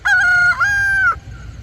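A rooster among farm chickens lets out a loud, close, drawn-out crow in two connected phrases, with soft background noise from the farm after it.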